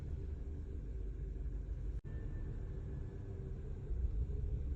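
A car engine, started and left running, gives a steady low idle rumble throughout, with a brief dropout midway and a slight rise in level near the end; no one speaks.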